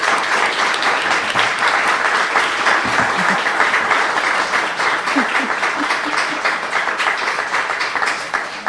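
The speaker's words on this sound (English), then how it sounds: "Let's give our guests a round of applause." A crowd at an evening panel discussion on public conversation applauds the guests in a sustained, loud wash of clapping that holds steady throughout, with a few faint voices underneath.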